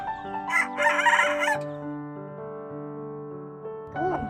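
A rooster crows loudly with a long drawn-out call, while chickens and chicks cluck around it. The crow dominates, and a short burst of clucking follows at the end.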